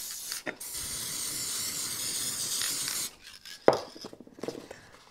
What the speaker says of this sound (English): Now what we're going to do is use the spray adhesive.